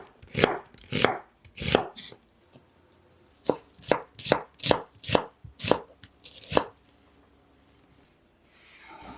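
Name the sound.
onion being thinly sliced with a knife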